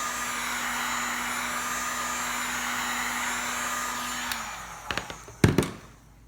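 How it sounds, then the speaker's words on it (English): A heat gun blows with a steady, airy whir for several seconds, then winds down and cuts off, followed by a few sharp clicks and taps nearby. "I am trying to be careful when I start the heat gun."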